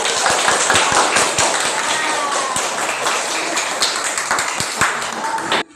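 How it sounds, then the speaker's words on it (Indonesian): Students in a classroom applaud a group for several seconds, a loud, dense patter of clapping with some voices mixed in, ending abruptly. "Beri tepuk tangan untuk kelompok 3."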